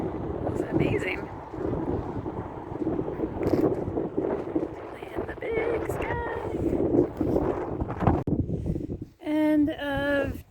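Heavy wind buffeting a microphone while riding on the road, rumbling and gusting in uneven waves throughout, with a voice talking intermittently under the roar and a brief drop near the end.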